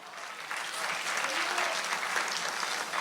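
A church congregation claps together in sustained, dense applause that swells slightly and holds steady, with faint voices under it.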